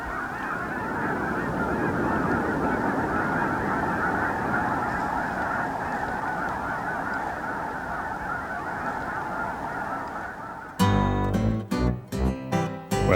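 Waterfowl, mostly geese, honk at Beaverhill Lake, a big prairie lake at the peak of migration, a dense continuous chorus of distant calls, joined near the end by sharp bursts of closer, louder sound.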